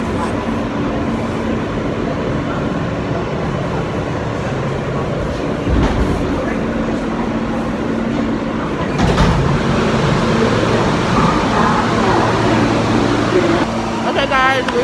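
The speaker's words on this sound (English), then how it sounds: "I'm on a train in New York City headed to go protest." Riding a New York City subway train: a loud, continuous low rumble and hum of the car in motion with steady rail noise, a few brief clunks and surges, and no talk over it.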